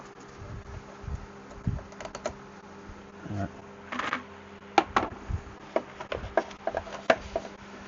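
An old fuel pipe on a Vespa PX scooter is cut through in a quiet workshop, giving a run of short, sharp snipping clicks at an uneven rhythm, some landing close together, over a low background hum.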